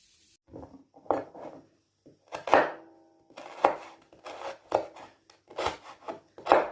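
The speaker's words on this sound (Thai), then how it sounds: "ตะไคร้เราก็หั่นหยาบๆนะคะ" Repeated knife chops on a cutting board as lemongrass is cut, irregular thuds and crunchy strikes close by, about a dozen over several seconds.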